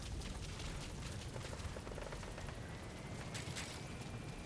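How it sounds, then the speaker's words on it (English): Support helicopter arriving in the Metal Gear Solid V: The Phantom Pain video game, a loud, continuous rotor roar and rumble with scattered sharp bursts like gunfire layered over it throughout. "Support helicopter has arrived."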